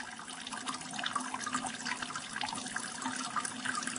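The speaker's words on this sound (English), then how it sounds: "You can hear this water running." Water runs steadily from a tap into a basin during a water-powered car demonstration, a continuous splashing, gurgling flow at close range.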